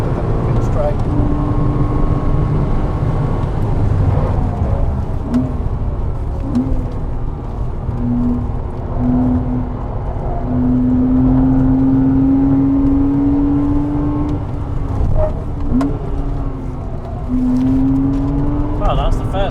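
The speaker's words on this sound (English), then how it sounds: "that's the first car we've had to let go past" Lotus Exige 410 Sport overtaking a Porsche Cayman 987 2.7 on a race track, heard from inside the car as a loud, constant engine drone with rising and falling whine, while people talk over it.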